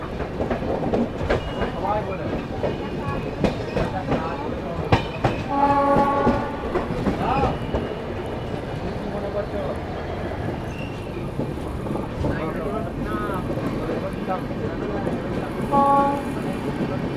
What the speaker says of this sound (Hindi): ट्रेन जो है अपनी धनबाद पहुंच रही है